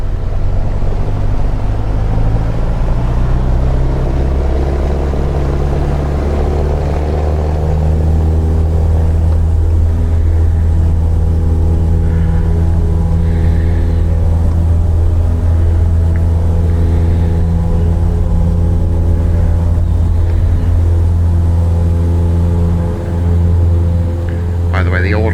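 A Cessna 172 piston engine in Microsoft Flight Simulator 2020 climbs to a steady high-RPM drone, its low harmonic hum rising in pitch over the first seconds and then holding loud and even throughout.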